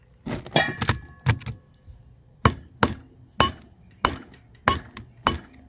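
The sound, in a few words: geopolymer ring struck, ringing tone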